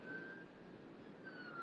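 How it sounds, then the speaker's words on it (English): An ambulance siren sounds from the road outside, a steady wailing tone rising over a broad background of traffic rumble, moderately distant and continuous throughout. "That was an ambulance, not a fire truck this time."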